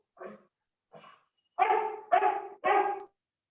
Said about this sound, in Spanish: sí se escucha más al perrito que tu voz